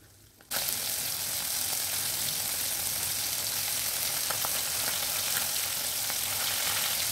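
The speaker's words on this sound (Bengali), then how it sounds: "আমি মাছগুলো এক এক করে তেলের ওপর ছেড়ে দিলাম" Small bata fish, salted, sizzle steadily in hot oil in a pan, a dense continuous frying hiss that starts abruptly after a brief quiet moment and holds close and even, with faint pops through it.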